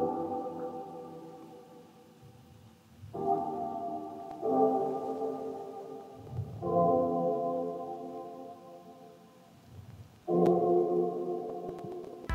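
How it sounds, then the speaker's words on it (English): Sustained organ chords from an Arturia Mini V3 house organ preset, shifting to a new chord about every few seconds in a slow progression for a beat, played alone with no talking. "So I initially started off with this organ."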